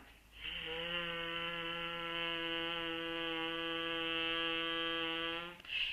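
A steady, low humming buzz held for about five seconds, a long voiced exhale imitating a bee in Bhramari yogic breathing, close and even.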